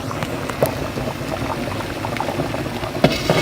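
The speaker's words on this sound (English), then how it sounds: "So oxtail is cooking." Oxtail simmers in a covered pot, giving a steady bubbling hiss with occasional small pops and clinks throughout and no talking.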